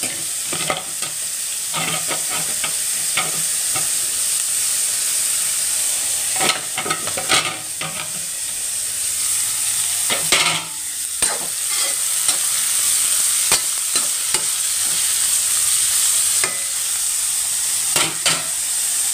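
Vegetables fry and sizzle in a pan over a high flame, with a steady loud hiss throughout and repeated scraping and clinking strokes from stirring, close and with no talk.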